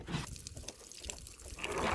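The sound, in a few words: pouring liquid out of a jug test barrier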